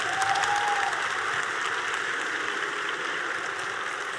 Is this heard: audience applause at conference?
yes